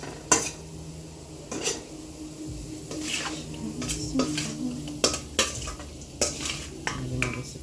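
Garlic frying in a pot while being stirred, with sharp utensil scrapes and clinks against the metal over a steady low sizzle, close and moderately loud, repeated irregularly throughout.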